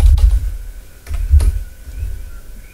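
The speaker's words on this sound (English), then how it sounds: "I'm just gonna type in Autodesk" Someone types a short word on a computer keyboard while working in Autodesk Inventor drawing tools. A handful of close, fairly loud keystrokes fall in quick irregular clusters with no talking.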